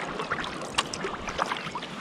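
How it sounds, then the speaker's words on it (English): A kayak paddles on the sea off Catterline in North East Scotland, with soft splashes and water swirling against the hull amid wind and gentle wave noise, close and fairly quiet. "I'm going to paddle towards the lighthouse and drift back in this direction."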